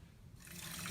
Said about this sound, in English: Now you take this under the tap and you can fill it with water